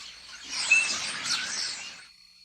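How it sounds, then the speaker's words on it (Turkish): A short burst of high, dense bird chirping and twittering, fairly close, rising and fading within a couple of seconds. "Gökyüzü yüzlerce kuş türünün cıvıltılarıyla doludur."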